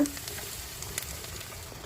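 Steady sizzling and crackling of five beaten eggs frying in a hot pan for an omelette, close and continuous, with faint tapping.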